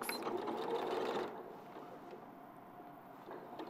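A sewing machine runs steadily for just over a second while stitching a V seam, then stops, leaving quiet room tone.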